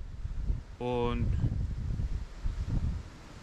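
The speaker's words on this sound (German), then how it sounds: "mir gefällt der Wind, der die ganze Zeit hier durchfegt" Wind sweeps steadily along a Baltic Sea beach, a constant low rumble buffeting the microphone while someone talks over it, with a brief whistling tone near the start.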